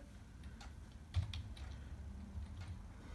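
A computer keyboard is typed on during a C programming lesson, producing a few soft, scattered key clicks and one slightly firmer press, faint over a low room hum.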